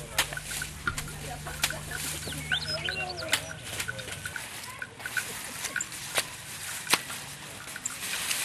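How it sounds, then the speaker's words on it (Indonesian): Chickens cluck and a rooster calls on a Balinese family farm where pigs are also kept, scattered bird calls and pecking sounds near and far over a low rural background hum. "Tabungan lain bagi keluarga Nengah Satria adalah babi dan ayam"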